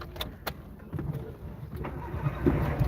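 A car engine cranks and starts so the AC can run, short clicks and thumps followed by a low rumbling idle, close and fairly loud.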